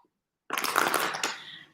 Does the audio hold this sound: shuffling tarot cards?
yes